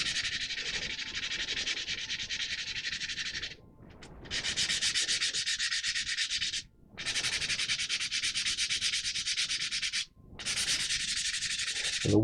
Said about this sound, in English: I'm trying to just file away the excess filler at the moment with this one, not the actual plastic itself.